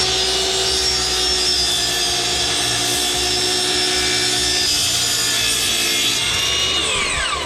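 Saw ripping through scrap wood for a pedalboard build, a loud continuous rasping whine with steady tone that drops off near the end, no voices.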